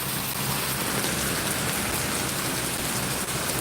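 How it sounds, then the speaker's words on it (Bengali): Heavy rain pours steadily in Singapore, a dense, continuous hiss of water on surfaces that stays loud and even throughout with no voices. "দেখতে পাচ্ছেন প্রচুর পরিমাণ বৃষ্টি হচ্ছে এখানে"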